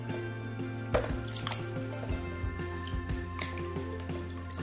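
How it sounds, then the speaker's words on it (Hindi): Peeled sweet potatoes are washed in clean water, giving close drips, splashes and squishy sloshing in an irregular rhythm over a steady background hum. "हम उन्हें तीन चार बार साफ पानी में धो लो"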